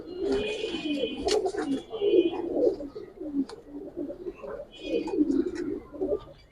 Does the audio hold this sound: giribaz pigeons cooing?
yes